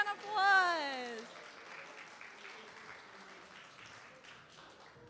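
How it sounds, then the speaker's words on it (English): A church congregation at a Christmas service breaks into a round of applause, a steady wash of clapping that holds throughout, while a voice rises in a sung or exclaimed tone near the start. "Another round of applause"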